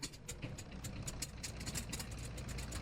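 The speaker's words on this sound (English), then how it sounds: "Activate the engine." Rocket engines firing up in Kerbal Space Program, a steady low rumbling roar that holds constant throughout with no speech over it.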